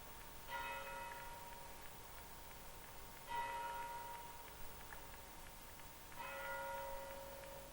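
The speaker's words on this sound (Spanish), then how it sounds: "El sonar de las campanas nos trae a la memoria un elemento indisociable de esta estación, la iglesia de Portbou." Church bells of the Portbou church ringing in three separate bursts at a steady interval, resonant tones heard at a distance against a quiet outdoor background.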